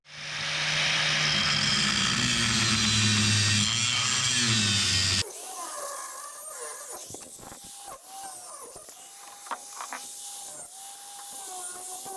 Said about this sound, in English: I'm just cutting off that latch to prepare this to get metal